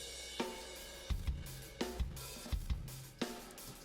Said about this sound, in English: Dirty, distorted, not very nice.